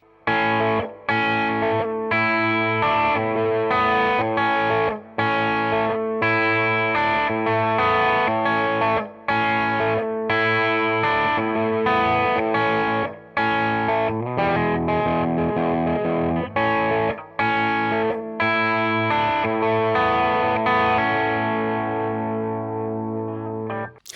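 A heavily distorted electric guitar plays chugging riffs through a hard-clipping overdrive pedal, with brief pauses between them, loud and gritty, with no voices.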